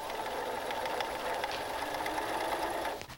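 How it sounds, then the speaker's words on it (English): Sewing machine fitted with a walking foot stitches through layered quilt blocks, a steady close whirring hum with a faint mechanical chatter that runs continuously and then slows to a stop at the end. "You might also notice that I've added a walking foot to the sewing machine."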